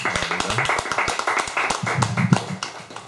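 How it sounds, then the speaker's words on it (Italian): Audience applause at an Italian debate on a campaign against homophobia, a scattered round of hand claps with some voices mixed in, fairly close and short-lived. "quindi un applauso anche a lei"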